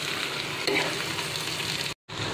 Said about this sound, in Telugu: ఇప్పుడు ఒకసారి బాగా మిక్స్ చేసుకోవాలి ఫ్రెండ్స్.